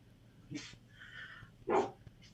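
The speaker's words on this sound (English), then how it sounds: "your dogs are barking" A dog gives two or three short, sharp barks close by, separated by a thin whine.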